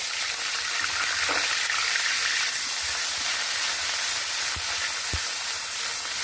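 Cumin, garlic and onion paste sautés in a pan for a Bengali egg korma, a steady close sizzle and hiss broken by a few soft stirring knocks.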